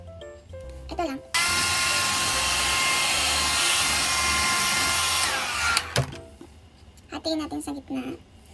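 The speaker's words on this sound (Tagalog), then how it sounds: "So let's do the hair dryer." A handheld hair dryer blows in a steady, loud whirring whoosh for about four seconds before switching off, with someone talking briefly before and after it.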